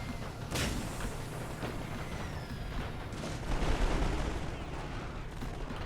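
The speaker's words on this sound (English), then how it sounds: "Got the assault SMGs. Just tearing them apart." Rapid gunfire and battle noise from the video game Total War: Great War, with assault submachine guns tearing through an enemy line amid a dense, continuous din of shots and booms.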